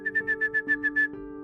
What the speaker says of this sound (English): Whistling as if he were calling a dog.